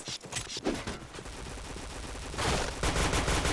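Rapid bursts of video game gunfire crackle through a dense, noisy mix, with automatic fire growing heavier and louder toward the end.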